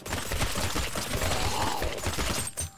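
Rapid gunfire in a zombie-shooting video game rattles along in a dense, steady stream of quick shots at moderate volume, tapering off abruptly near the end.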